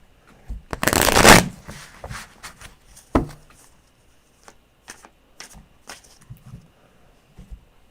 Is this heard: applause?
no